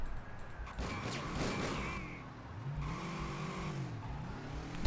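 A motorcycle in the video game Driver Parallel Lines revs and speeds along, with a sliding tire skid and rising, falling engine tones, heard without talk.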